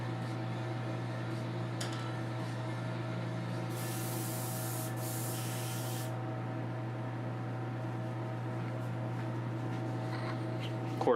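An airbrush sprays cleaning liquid at a hobby painting bench, letting out two short, close bursts of hiss in quick succession over a steady low hum.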